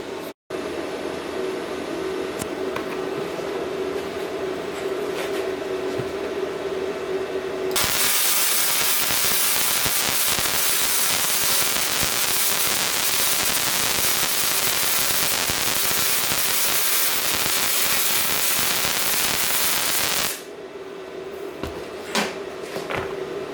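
Flux-core wire welding on a BestArc MIG145 welder, a steady loud broadband crackle and hiss lasting about twelve seconds, starting and stopping abruptly over a low background hum.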